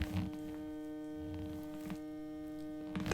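A Nike x Hyperice Hyperboot compression boot powers on with a steady electrical hum that holds for about three seconds, with faint rustling at the start and end and no talking.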